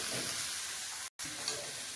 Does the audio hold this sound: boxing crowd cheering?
no